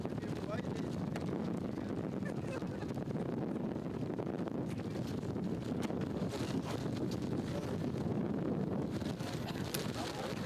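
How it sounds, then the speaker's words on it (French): Steady broadband wind noise buffeting the microphone throughout at an Olympique Lyon football training session, a constant low rumble with faint crackles over it. "Toujours du vent."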